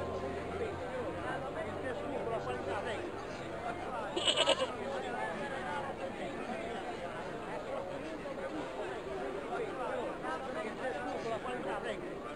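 A brief, bright bleat from a goat in the PC game Broken Sword 2 rises out of a constant murmur of crowd chatter and background hum, heard once near the middle.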